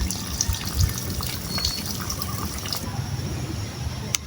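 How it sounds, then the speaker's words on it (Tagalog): Water gushes and trickles steadily from a water pump's tank being drained, splashing and gurgling, with a few sharp drips and knocks near the end. "dinidrain muna natin yung tangke para magkaroon ng panibagong setup"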